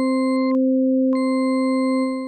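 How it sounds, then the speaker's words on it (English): A synthesizer sine wave in Absynth with several stacked copies sounds as a pure, steady electronic tone, loud and unbroken, with a brief clicky break in its upper overtones partway through. "So I can add up to 7 copies of the sine wave, all placed on top of itself."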